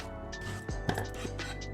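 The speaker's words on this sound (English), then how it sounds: "Slice it once, roll it, slice it again." A knife cuts through aubergine on a cutting board in a home kitchen while making di san xian, giving a few crisp, close chops with faint clinks of kitchenware against a steady background hum.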